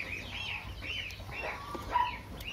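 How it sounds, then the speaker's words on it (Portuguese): A hen clucks among ducklings on a small Brazilian farm, giving soft, repeated clucks at a moderate distance against a low outdoor background. "Sai da frente, galinha."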